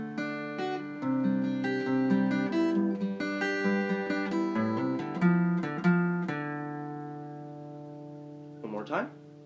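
A guitar plays a section of a song: a sequence of strummed and picked notes that rings out clearly and alone, then decays to a sustained tone with a brief string squeak at the end.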